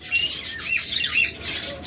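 Pairs of lovebirds or cockatiels set up as breeding pairs squawk and chirp in a dense, continuous chorus of shrill calls, fairly loud and close, with no talking.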